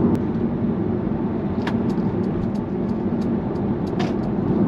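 Mercedes-AMG A35 hatchback cruising at 70 mph in seventh gear at about 2000 RPM, a steady low cabin drone of engine and road noise holding constant throughout, with a few faint ticks over the hum.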